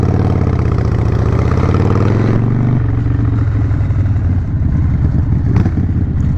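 Harley-Davidson Sportster motorcycle engine running at idle, a loud, close, continuous low rumble with uneven lumpy pulsing that shifts pitch slightly partway through, with no speech over it.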